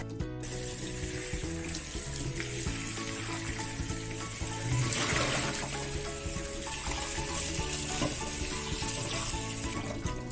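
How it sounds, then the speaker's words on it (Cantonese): A steady stream of running tap water pours over raw pork in a kitchen sink, a continuous rushing splash lasting throughout, close and fairly loud with no voices. "水喉下邊咧沖一沖佢"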